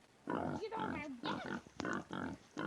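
Wild boar in a forest, grunting and squealing in several close, loud bursts with short pauses between them.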